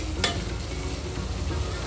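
Sliced onions frying in a pan for an Andhra-style egg curry, a steady close sizzle with a single scraping stir near the start, no talking.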